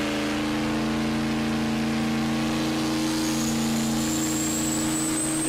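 Truck engine loaded against a dyno brake in a dyno shop, set up for sled pulling, a loud steady low drone with strong harmonics and a rising whine building late, continuous with no talk.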